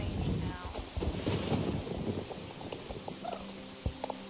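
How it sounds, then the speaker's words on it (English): Rain falls in the video game Star Stable Online, a steady patter of drops with low rumbling like distant thunder and scattered sharper taps, heard alone and fairly soft. "Oh, it is raining now."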